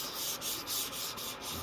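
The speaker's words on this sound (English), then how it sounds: "While I'm sanding." Hand sanding on wood during final sanding in a workshop, a close, steady rasp that swells and fades in even back-and-forth strokes, about five passes, with no voices.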